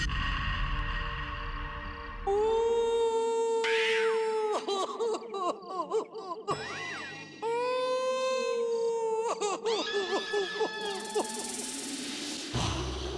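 A human voice imitates a dog's howl: several long, wavering, rising and falling cries, loud and close, with short breaks between them.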